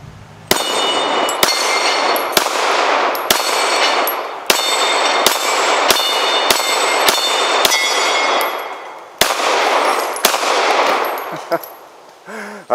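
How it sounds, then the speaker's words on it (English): Gunshots ringing off a 2-liter bottle and pottery targets, a dozen sharp cracks at uneven intervals, each followed by a lingering metallic clang and ring. "I was shooting at the 2-liter when I hit that pottery"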